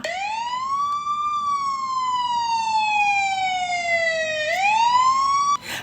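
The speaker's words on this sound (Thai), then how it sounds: "ฟังเสียงนี้เลยค่ะฟังเสียงไซเลนเลยนะคะ" A loud siren wails steadily, its pitch slowly rising and falling in a long sweep before swooping up again near the end.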